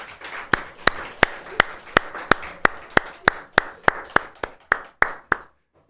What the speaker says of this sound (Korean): 또 우리 찬양대에게는 격려의 마음 담아서 크게 박수 한번 할까요?